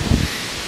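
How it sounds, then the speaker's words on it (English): Brief burst of wind buffeting the microphone outdoors in Hawaii, a low rumbling gust that fades into a breathy rush. "Will not stay on because it's so windy out here"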